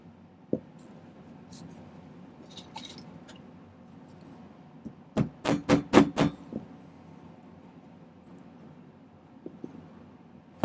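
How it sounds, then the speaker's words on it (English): Plastic hammer striking a dapping punch to shape a silver ring: a quick run of about six sharp, close metallic taps, with a few scattered softer knocks before and after in a quiet room. "let's kind of use a dapping punch here in my plastic hammer"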